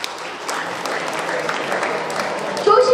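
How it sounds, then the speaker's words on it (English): Students clap for a classmate in a school classroom during a World Mathematics Day celebration, a short burst of group applause that holds steady and swells slightly at the end. "Keep claps for him."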